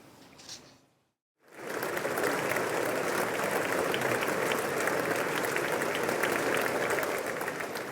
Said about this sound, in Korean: 그때 이제 저렇게 인사를 하고 손도 흔들면서 전부 기립박수를 받았는데